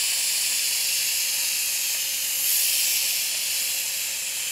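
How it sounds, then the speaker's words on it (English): Continuous steady hiss of steam played over synthetic dreads, close and even for several seconds with a slight swell midway. "Anyway, steam it."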